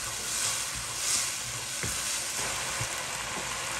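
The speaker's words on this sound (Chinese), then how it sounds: "把料汁水炒至均匀。" Carrot and minced meat stir-fried in a wok over high heat with a sauce mixture, a steady loud sizzle with occasional scraping stir strokes.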